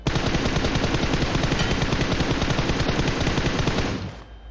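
Rapid automatic gunfire from a shooter video game rattles in a loud, continuous burst lasting about four seconds before cutting off abruptly.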